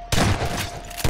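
Gunfire in Garry's Mod, a loud, close burst of shots at the start and another sharp shot at the end, with a dense ringing wash between them.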